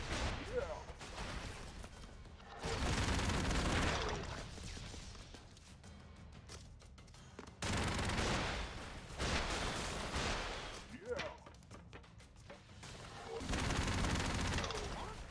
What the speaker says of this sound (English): Bit more missiles than usual, but I should be able to handle this.